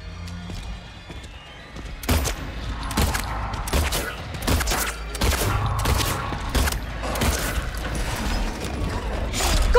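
Gunshots in Silent Hill 2 Remake, a burst of repeated sharp shots with mechanical clicks and reloading clatter over about eight seconds, loud and close, fired in uneven clusters.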